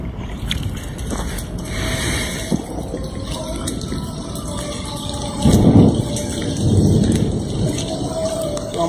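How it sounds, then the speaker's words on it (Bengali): A thunderstorm near a river and canal at a jungle edge, with steady rain and low, rolling rumbles of thunder that swell twice in the second half over a constant wash of rainfall. "আকাশে বিদ্যুৎ চমকাচ্ছে"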